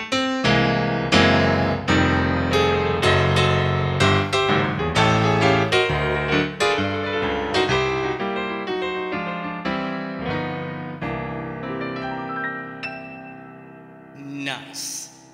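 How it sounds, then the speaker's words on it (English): Yamaha Genos arranger keyboard playing its CFX concert grand piano voice: a solo piano passage of full chords and runs, steady and close, ending in a brief louder flourish. "So this over here, this is the CFX concert grand."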